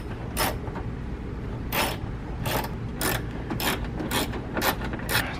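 Ratcheting while a plastic piece is bolted down over an intake filter: about nine sharp, evenly spaced clicking bursts over a steady low background hum, fairly close, no talk.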